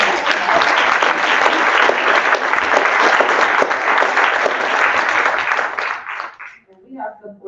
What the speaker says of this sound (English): And y'all need to clap for